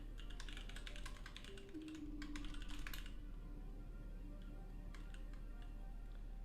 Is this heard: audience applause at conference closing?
no